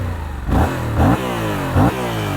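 Yamaha R7 sport motorcycle fitted with an Akrapovic exhaust pulls away, engine note rising in three quick revving surges as it shifts up, close and loud with a deep throaty rasp between each gear change.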